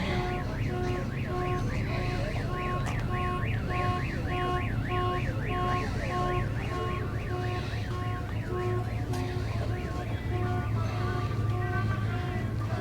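A car alarm cycles loudly through its warbling, repeating electronic tones at an outdoor swap meet and classic car show, continuing steadily without pause.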